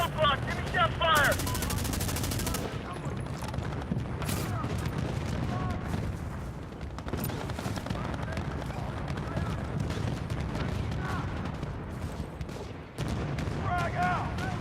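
Rapid, sustained M16A4 assault rifle bursts in the online shooter Medal of Honor (2010) on an airfield map, loud and near, with heavy battle noise and shouted voices over the gunfire throughout.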